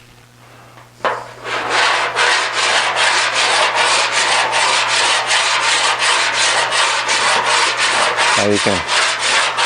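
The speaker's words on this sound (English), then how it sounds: "the file makes a neat sound that when it goes over rough stuff like this, I call that the railroad track" Metal file scraping back and forth over a rough aluminum auto body panel during dent repair, a loud, even rasp with rapid repeated strokes, briefly joined by a voice near the end.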